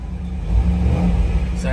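A car with 34,000 miles idles steadily after firing up, a low engine rumble running evenly throughout with speech nearby.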